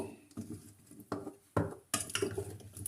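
Vegetables are stirred in a pot for a Moroccan chicken tajine, a spoon scraping and clattering against the metal in a few irregular bursts of clinks and rustles, close and clear with no talk.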